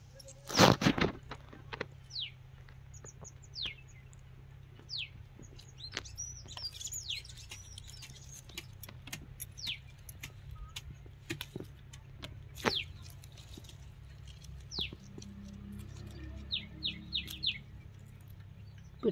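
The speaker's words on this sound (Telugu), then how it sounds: "పిట్టలు ఎంత బాగా సౌండ్ వస్తున్నాయి" Small birds chirp and tweet around a vine tomato garden beside a wall, with many quick, thin downward-sweeping calls scattered across the stretch, some close and sharp, others fainter, over a low steady background hum.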